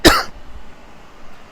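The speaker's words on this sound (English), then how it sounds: "I've been coughing today" A man coughs once, a single sharp loud burst that fades quickly into quiet room tone.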